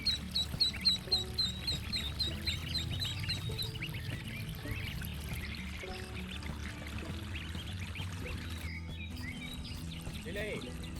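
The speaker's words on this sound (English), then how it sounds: "Seeing the ducks paddle around happily, Lily even used a leaf to gently guide them," Ducks quack in a short burst of rapid calls near a small backyard fish pond, then fade under a steady low rumble and faint background voices.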